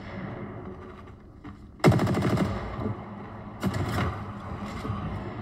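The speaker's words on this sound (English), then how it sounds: "Shooting from above." Gunfire in the Apex Legends battle royale game: two loud automatic bursts, the first near the two-second mark and the second near three and a half seconds, over a steady background of game ambience.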